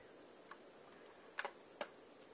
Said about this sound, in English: Just turn up the volume on the alarm clock.